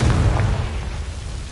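A Confringo blasting spell from Hogwarts Legacy erupts as a loud, heavy explosion, a single deep boom with a rumbling, crackling tail that fills the short moment, close and alone.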